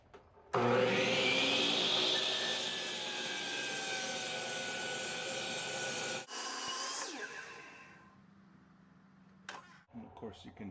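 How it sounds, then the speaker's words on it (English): A miter saw cuts through a standard 2x6 with dust collection running: the motor spins up loud and steady, the blade stays in the wood for several seconds, then it winds down, followed by faint handling noises near the end. "I'm going to take a standard 2x6 and make 2 cuts through it"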